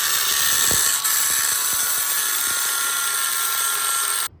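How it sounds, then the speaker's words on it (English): A milling machine cuts into an aluminum carburetor part to widen its holes, a steady high whining drone with faint ticking chatter underneath, close and loud until it stops abruptly at the end. "So this here is what they call a mill. Now, basically, these holes need to get closer together, so luckily it's aluminum"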